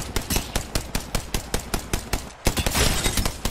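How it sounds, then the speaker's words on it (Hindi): Rapid automatic gunfire in the game Apex Legends, a loud burst of evenly spaced shots followed by a denser chaotic volley of overlapping fire. "गोलियां पड़ रही है"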